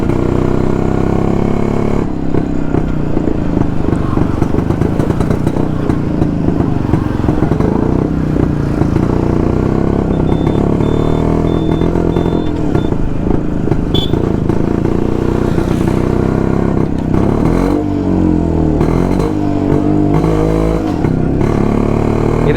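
A vintage Jawa Yezdi D250 two-stroke motorcycle is ridden, its engine droning loud and continuous with a buzzy, rattling tone and slight shifts in pitch, heard up close throughout.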